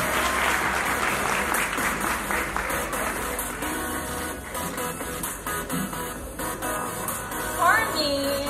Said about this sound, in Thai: ปรบมือให้กับหมายเลข16ครับ